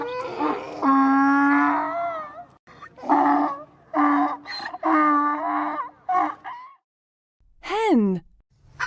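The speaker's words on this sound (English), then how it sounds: "Donkey." A donkey brays in long, wheezing, see-sawing calls, several in a row with pauses between, followed by a short rising squeal at the end.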